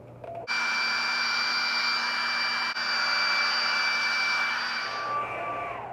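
Hair dryer blowing on lace wig adhesive during a lace frontal wig install: a steady, loud whirring airflow with a high whine, running continuously for about five seconds before winding down, with no voices.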